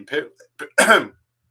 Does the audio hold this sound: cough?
yes